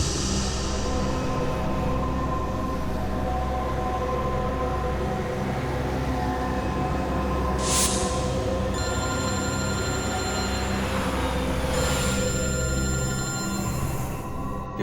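A telephone rings in a tense police-drama scene, its electronic tones recurring in bursts over a steady, rumbling background hum, with no talking while it rings.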